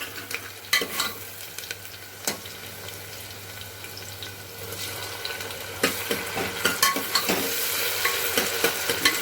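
Chopped tomato sautés with softened onion in a pan, giving a continuous low sizzle broken by spoon scrapes and clinks that grow busier toward the end, with no talking.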